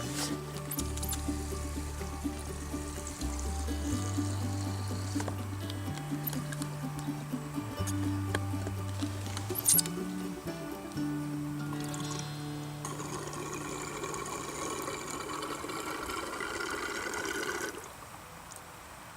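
Two-stroke fuel pours from a venting can into the tank of a Stihl FS 260 professional brushcutter, a long close gurgling stream with rising glugs that stops abruptly near the end as the tank fills.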